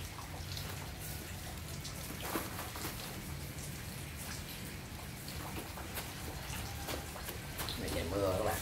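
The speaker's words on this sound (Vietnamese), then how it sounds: "Này trời mưa các bạn." Steady rain falling outdoors during potting work, a constant hiss of drops with occasional louder spatters close by, continuing throughout.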